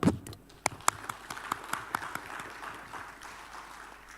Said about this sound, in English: let us give a big applause for the speaker